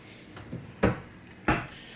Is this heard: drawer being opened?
yes